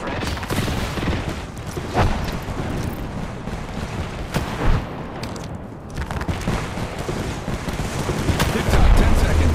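Heavy exchanges of gunfire in the Apex Legends video game, loud sharp shots and bursts crackling continuously over a noisy battle background with scattered voice lines.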